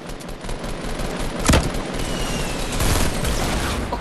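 Fortnite gunfire, a sharp near shot followed by dense rattling bursts under steady game noise, with no voices.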